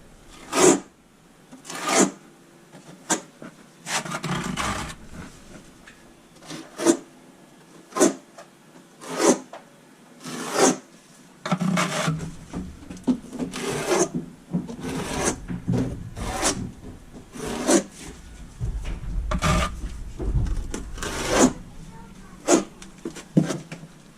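A trowel scrapes in short, repeated rasping strokes while Schluter Kerdi waterproofing is applied in a school bus shower, close and fairly loud, with gaps of quiet between the scraping bursts.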